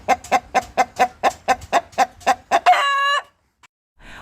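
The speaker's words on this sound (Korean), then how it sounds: "그 안에는 평범한 닭 한 마리가 들어 있었습니다." A chicken clucks in a steady rapid series of about a dozen close, loud clucks, ending in a longer drawn-out squawk before silence.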